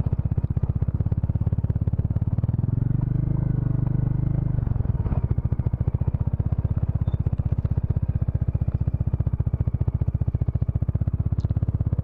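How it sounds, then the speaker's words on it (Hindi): A Bajaj Dominar 400 motorcycle labors up a steep off-road slope, its engine thumping in a steady, loud drone that rises and strains for a few seconds, close by, with some clatter. "प्रॉपरली खड़ी चढ़ाई है भाई, मुश्किल ना हो जाए बाइक चढ़ानी"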